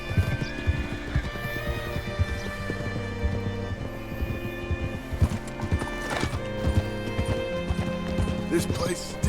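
Horse hooves clip-clop steadily in Red Dead Redemption 2, a continuous rhythmic trot close by, with occasional whinnies and someone talking over it amid background game music.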